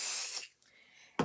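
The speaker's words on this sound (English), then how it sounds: "I'm going to spray the batting" Spray adhesive hisses from an aerosol can onto quilt batting for a table runner, a loud burst of nearly half a second, then a faint lingering hiss and a second short spurt at the end.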